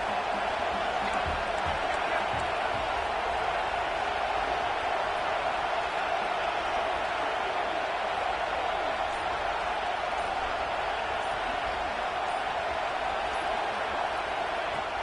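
Fired-up football stadium crowd early in a game, a steady dense roar of many voices holding at an even level throughout with no break.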